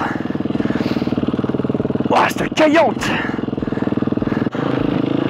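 A cold motorcycle engine runs close by with a rapid, steady, throbbing idle and a brief surge in the middle as someone speaks over it.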